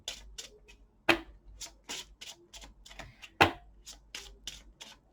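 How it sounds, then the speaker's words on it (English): A deck of tarot cards being shuffled by hand: a series of crisp riffling bursts and soft slaps in an irregular rhythm, close and moderately quiet, with a couple of sharper snaps along the way. "So let's shuffle on this pick a card love reading."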